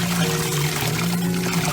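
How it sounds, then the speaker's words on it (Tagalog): Water poured while washing rice, a loud close continuous gushing and splashing flow with a low steady hum underneath, with no talking. "So nakailang na akong hugas ng bigas."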